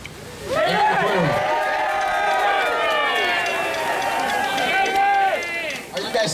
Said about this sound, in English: Are you guys cheering because she's here, or are you just cheering just to be nice?